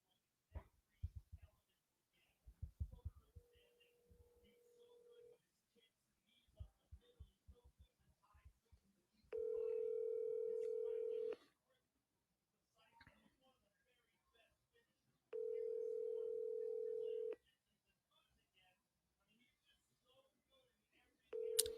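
A phone call being placed, with scattered speech and noise first, then a steady buzzing telephone tone in two long separate bursts of about two seconds each, among quieter chatter.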